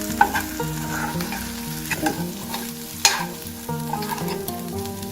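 Egg, okra and turmeric powder stirred in a frying pan: steady frying sizzle with repeated scraping spatula strokes and a sharper clack near the middle, close and clear, no talk.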